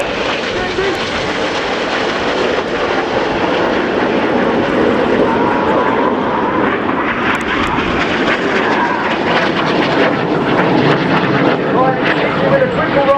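Red 9, a Red Arrows jet flying a solo display at the RIAT air show at Fairford, roars continuously and loudly overhead, with a commentator's amplified voice talking over the engine noise.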